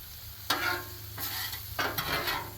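Sirloin steak bites and vegetables sizzle on a Blackstone griddle as a spatula scrapes and tosses them in three short bursts over a soft, steady background hiss.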